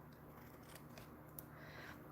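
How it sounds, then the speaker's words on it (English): Scissors trim paper for a 3D folder, producing faint, soft snipping and crisp cutting sounds close by over a quiet background hiss. "And then we'll just finish trimming."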